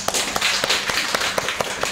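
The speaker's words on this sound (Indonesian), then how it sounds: "Nih ya, tepuk tangan." Students clap together in a classroom, with quick, evenly spaced hand claps that are sharp and close for a couple of seconds.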